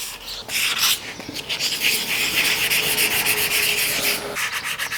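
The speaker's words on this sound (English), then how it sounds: "I'm going to actually use some sandpaper to kind of sand it in" Hand sanding guitar wood with 400 grit sandpaper and Tru-Oil, a loud, close, continuous scratchy rubbing with rapid back-and-forth strokes and short breaks at the start and end.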